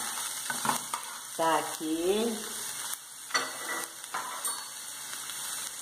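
Chopped onion added to a hot pan where garlic is already browning with black pepper, sizzling and crackling steadily throughout with utensil scrapes and a brief spoken remark.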